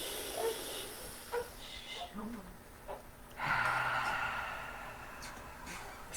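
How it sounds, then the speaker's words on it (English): One person takes a slow, deep breath, a long airy hiss of inhaling and exhaling partway through, heard close and otherwise quiet against a hushed room. "by taking deep breaths."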